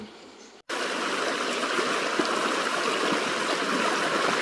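Freshwater stream at Lam Kiao waterfall in Khiri Mat, Sukhothai, Thailand, rushing and gurgling loudly and steadily after a quiet moment at the start, close by and with no voices.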